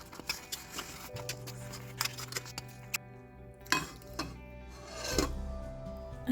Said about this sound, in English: I'm going to stir this and then I'm going to put the gas off.